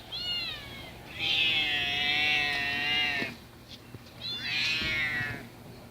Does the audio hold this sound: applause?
no